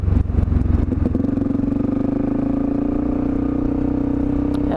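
A Suzuki DRZ400E dual sport motorcycle rides along at a steady pace, its engine holding a loud, even drone close by with some mechanical clatter and no talk.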